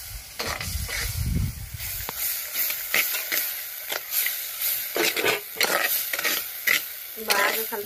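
Curry frying in a pan with a constant sizzling hiss while a spoon stirs and scrapes it in irregular bursts. It sounds close and moderately loud, with no talking.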